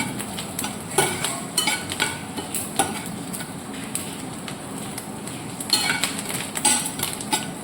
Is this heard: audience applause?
no